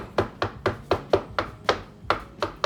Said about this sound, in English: So I'm going to just keep chopping away here until it's tiny.